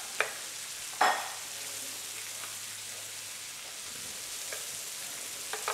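Pork sizzles in a ginger stir fry on an induction hob as a steady, soft frying hiss, with a couple of sharp clacks from the pan or utensil near the start and faint scrapes later.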